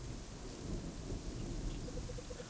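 Steady rain pours down in a dark street beside a bus stop, with thunder rumbling low and continuous beneath the dense hiss of falling water.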